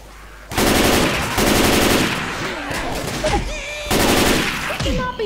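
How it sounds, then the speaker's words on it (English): Loud, close automatic gunfire from the video game Left 4 Dead 2 comes in several long rattling bursts separated by brief gaps, with game noise and a voice in the background. "We cannot be shooting each other."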